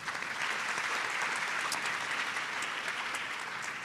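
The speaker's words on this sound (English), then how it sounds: "A round of applause for her again." Steady, dense applause from a seated conference audience honouring a woman executive, the first CTO and CEO of a telecom company, sustained and even throughout with no voices.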